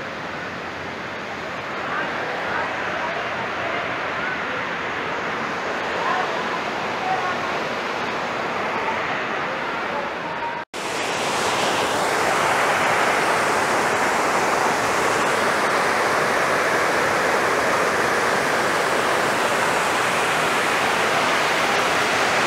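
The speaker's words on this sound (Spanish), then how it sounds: "Este río desciende y más abajo encontraremos otras cascadas" A river rushing downhill toward waterfalls near Cuetzalan gives a steady, close, broadband roar of flowing water that runs unbroken, briefly cuts out midway, then returns slightly louder, with no voices.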